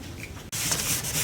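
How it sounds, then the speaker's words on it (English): A car headlight is sanded by hand with 600 grit sandpaper, giving a close, continuous scratchy rubbing. A brief break interrupts it before the strokes resume, stronger than before. "we just sand them down"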